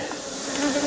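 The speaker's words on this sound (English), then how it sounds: "A lot of bees in there" Dense, steady buzzing of many honey bees inside a hive during hot weather, a close, continuous hum with no pauses.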